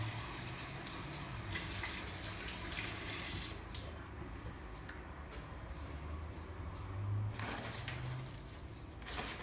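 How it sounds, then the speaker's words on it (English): A tap runs steadily into a sink while hands are washed under it, a continuous soft hiss with faint shifts as the flow is disturbed, close and fairly quiet with no talking. "it's important to wash hands before and after putting on gloves"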